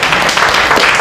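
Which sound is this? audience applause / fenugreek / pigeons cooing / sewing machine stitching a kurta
audience applause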